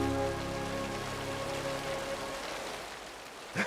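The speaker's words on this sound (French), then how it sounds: "Il pleut." Steady rain falls as a dense, even hiss of drops on surfaces, moderately loud and unbroken, with a faint tonal hum beneath it early on and a small knock at the very end.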